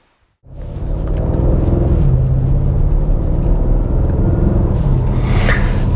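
A C7 Audi RS6 Avant pulls away after a brief silence, its engine settling into a deep, steady rumble with road noise inside the cabin, loud and constant to the end.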